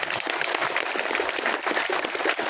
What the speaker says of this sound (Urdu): جاندار قسم کی تالیاں بجا رہے ہیں